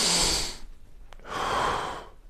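Breathing during a bicep curl with a weight: a long breathy exhale, a pause, then a second drawn-out breath, close and fairly soft.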